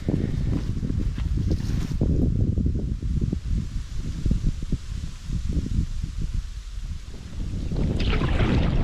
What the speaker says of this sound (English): it is windy breezy